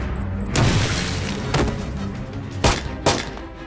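A frag grenade detonates during a tactical room-entry, a heavy deep boom that rolls on under sustained rumble, followed by several sharper thumping blasts and reports, loud and close.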